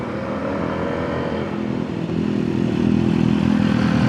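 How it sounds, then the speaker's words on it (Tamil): Superbike engine, a Kawasaki ZX10R or BMW S1000RR, rumbles steadily nearby at night and swells louder partway through, with no talking. "உங்கள் வண்டியா ப்ரோ அது சவுண்டு?"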